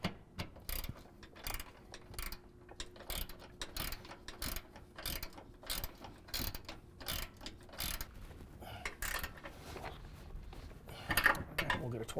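A torque wrench is tightening suspension nuts on a 2024 Ford F-150 during an upper control arm install. Its clicks and ratcheting sound as a rapid series of sharp, close, fairly quiet taps, with a louder cluster near the end.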